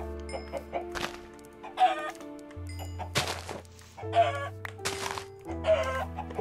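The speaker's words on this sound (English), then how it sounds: "Okay, kill the chickens." Minecraft chickens cluck repeatedly in short bursts over a steady game soundtrack, with soft thunks of hits as they are attacked, close and clear, with no talk.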